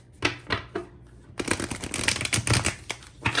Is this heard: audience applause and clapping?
no